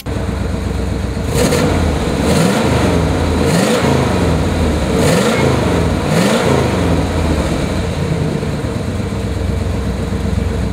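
A 1978 Chevrolet Corvette Coupe engine runs loud and close, revved up several times in a row with rising and falling sweeps over a steady idle, with no talking over it.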